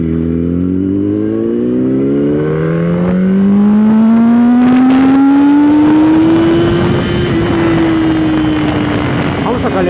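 A Yamaha R1 sport bike ridden on a twisty road while warming its tyre, engine loud and close, pitch climbing steadily through the gears under wind rush.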